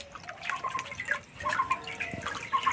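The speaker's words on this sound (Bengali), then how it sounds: "গামলা জলটা একবার ফেলে দেব।" Water tipped out of a basin after washing pieces of chalkumro (ash gourd) for a sweet, falling in splashy drips and trickles for a few seconds at moderate volume, with no talking.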